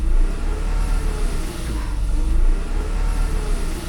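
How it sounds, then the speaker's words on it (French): An old car's engine revs steadily under a quick blip of the accelerator, a low continuous rumble rising and falling slightly while the battery warning light stays lit; close and fairly loud, no talking. "Déjà un petit coup d'accélérateur."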